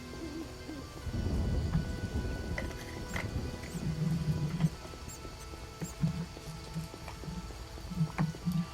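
Rain falls at night in the video game The Witcher, a soft continuous patter under a low rumble. Quiet game music and ambient tones drift through the background.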